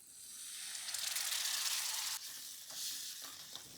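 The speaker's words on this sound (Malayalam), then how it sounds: "അതിനുശേഷം 3 ടേബിൾ സ്പൂൺ വിനെഗർ ഒഴിച്ചു കൊടുക്കാം." Vinegar hits hot oil and frying spices for a lemon and dates pickle, bursting into a loud hissing sizzle that swells, drops off abruptly, then flares again more softly.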